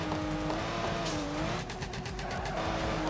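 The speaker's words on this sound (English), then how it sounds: "This car just rips in fourth gear." A drift car in the video game Torque Drift revs hard in fourth gear toward the red line, its engine note rising and wavering with tire squeal, loud and continuous throughout.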